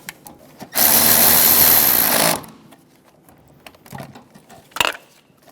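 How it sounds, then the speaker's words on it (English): A power tool runs in one steady, loud burst of about a second and a half, snugging down rear engine mount bolts on a 2003-2007 Honda Accord 3.0L V6, followed by quieter clinks and a sharp metallic tap. "Snug down the bolts."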